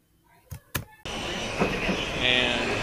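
A metro train at an underground station, a sudden loud rush of wheels and roaring air swelling in after a couple of sharp knocks, continuing as a dense, close rumble.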